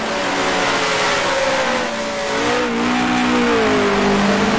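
A 1966 Formula One race car engine in Grand Prix Legends holds a loud, close, steady high-revving drone, its pitch dipping briefly and then climbing again as the throttle shifts, with no voices.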